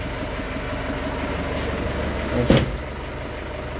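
An Isuzu Crosswind with low power idles steadily, its engine a low, even rumble, with a brief knock or clunk near the middle and a single spoken word.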